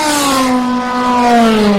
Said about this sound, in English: There goes one of the Evoras.